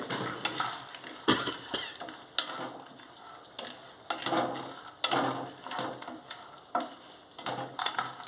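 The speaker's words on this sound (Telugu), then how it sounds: "బాదం జీడిపప్పు పుచ్చపప్పు ఇవన్నీ లైట్గా వేయించుకుందామండి" Almonds, cashews and melon seeds fry in ghee for kodo millet payasam, a quiet crackling sizzle broken by repeated scraping stirs of a spoon against the pan; no speech.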